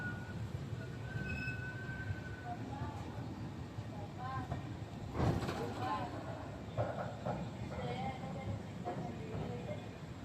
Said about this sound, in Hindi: हमारी ट्रेन आ चुकी है आमगांव स्टेशन पर